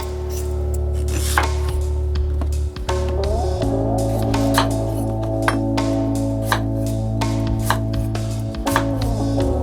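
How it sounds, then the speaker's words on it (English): A knife chops sweet potato into bite-sized pieces on a board, giving a rapid run of sharp, close knocks over a steady background hum. "Cut sweeter potato into bite-sized pieces."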